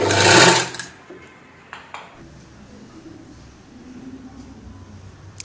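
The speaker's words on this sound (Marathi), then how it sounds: "आता जॉईंट करून घेतलं आता एकावर एक कपडा ठेवायचा व्यवस्थित आणि शिलाई मारून घ्यायची" A sewing machine stitching silk blouse lining fabric gives a loud, close whirring burst at the start, then falls to quiet, faint mechanical ticking and low hum.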